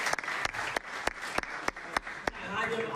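Applause for a guest on a Dutch talk show, with clapping close by and several sharp, separate hand claps standing out over the crowd's patter.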